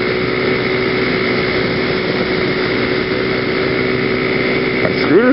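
A motor scooter rides through snowy countryside after a December snowstorm, its small engine droning steadily and closely, with the pitch sweeping upward near the end.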